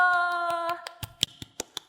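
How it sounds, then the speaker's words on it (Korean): Scattered applause for a family at a church prayer meeting: a few sharp, evenly spaced hand claps following a sustained, fading musical tone, with no talk over them. "우리 윤효호 남회장님 가정에게 큰 박수를 보내주세요"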